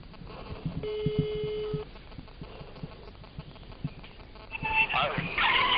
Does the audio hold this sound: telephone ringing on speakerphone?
yes